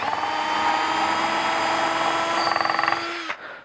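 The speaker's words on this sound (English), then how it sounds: "I'm just going to go ahead and drill down." A power drill with a brad point bit whines steadily as it bores into wood, loud and close, then winds down and stops abruptly near the end.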